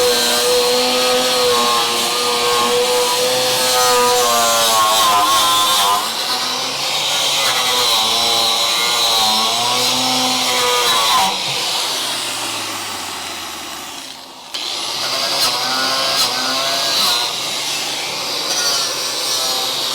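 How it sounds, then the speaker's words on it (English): A worn stainless steel wire brush scrubs a rail on a Crew Cab Charger under restoration, harsh rhythmic scratching strokes that pause briefly midway before resuming, close and loud with no talking. "This stainless steel wire brush is getting to its last legs."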